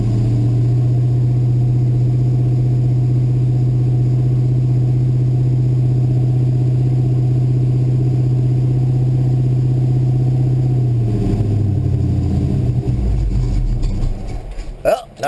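A Chevrolet S10 truck engine idles steadily while warming up, a loud, even low hum that holds for about eleven seconds, then shifts and roughens as the idle changes near the end.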